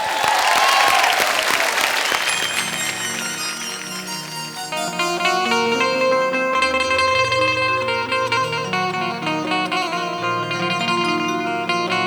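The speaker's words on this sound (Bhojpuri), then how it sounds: "जोरदार ताली से स्वागत करिए इनका" Loud applause and crowd noise in a singing reality show studio welcome a folk singer duo, fading after about two seconds as musical instruments begin playing and carry on steadily.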